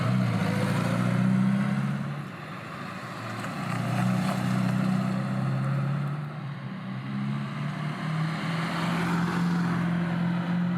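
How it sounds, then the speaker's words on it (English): Inside a ZAZ Slavuta car, the engine drones and swells as it accelerates, with a howling heater and a steady low rumble filling the cabin from start to finish. "Very loud in the car, the heater howls, the engine howls during accelerations"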